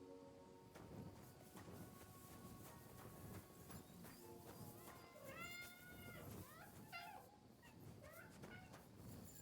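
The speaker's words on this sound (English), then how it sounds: "Is that Meowing? How many of them are there" Several cats meow in the medieval video game Kingdom Come Deliverance 2, rising and falling cries that overlap a busy, steady game backdrop with hoof-like clopping.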